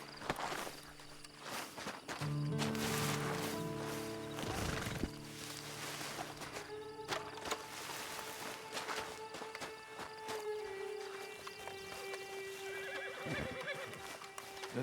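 A horse in the Red Dead Online video game whinnies loudly several times over clip-clopping hooves walking nearby, with other scattered game sounds in the background.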